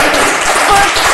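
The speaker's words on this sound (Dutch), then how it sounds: "En hoor het even dat applaus als zij het volgende zegt." A short burst of loud, dense studio audience applause lasting just over a second, filling the space with no voice on top.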